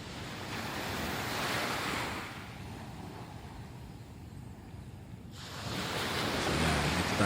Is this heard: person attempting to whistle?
no